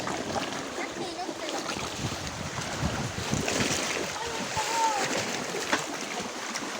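Waves slosh and splash against a boat hull amid wind noise, with people speaking intermittently over the watery churn.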